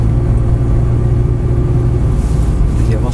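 A Ferrari 360 Modena F1 creeps slowly onto a track, its engine a loud, steady low rumble throughout, with a murmuring voice partly buried beneath it.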